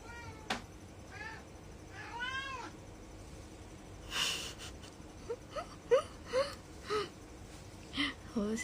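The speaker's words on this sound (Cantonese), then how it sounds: "其實好少聽到 Marvy 叫，不過夜晚係比較鍾意叫" A pet cat meows at night, several short separate calls with rising and falling pitch spread across the stretch, moderately close, with soft room noise and faint voices around them.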